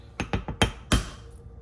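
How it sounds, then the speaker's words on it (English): A spoon handle scrapes the rest of the drained tuna out of a can with five sharp, close metallic clinks and knocks in quick succession, then quiet. "I'm gonna use the handle of my spoon to scrape out the rest"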